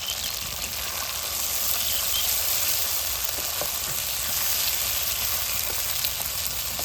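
Onion and capsicum, cut into large pieces, sizzling together in a hot pan, a steady, dense frying hiss throughout with a few faint clicks of stirring.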